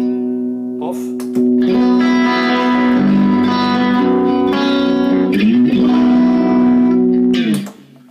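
Clean electric guitar tone from an Axe-Fx II XL preset, loud sustained chords ringing with rich harmonics and reverb, changing twice before cutting off, played alone without talking.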